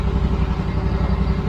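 A buggy engine idles steadily in freezing cold, a close, loud, continuous low rumble with a fast even chug and faint clatter, with no voices.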